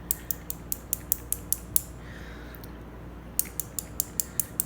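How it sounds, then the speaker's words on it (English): A paintbrush is knocked against another brush to splatter watercolor paint onto paper. It makes a steady series of sharp, light taps close by, briefly pauses, then continues. No one speaks. "So I'm holding it high and knocking, and you're going to start to see some sparkles or little spots on the paper"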